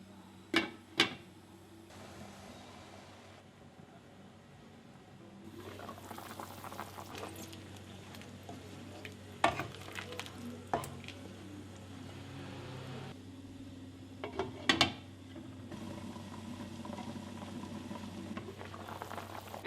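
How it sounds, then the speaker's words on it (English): Chicken pieces with salt cooking in a covered pot over a medium flame, a steady bubbling simmer with occasional clanks and scrapes of a lid and stirring, close and fairly quiet, no talking. "Cover and cook it for 20 minutes on a medium flame and occasionally stir in"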